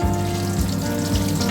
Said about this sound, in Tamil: ஸோ ரன்னிங் வாட்டரில் நல்லா கழுவி எடுத்துக்கோங்க